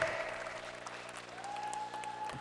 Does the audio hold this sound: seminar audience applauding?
yes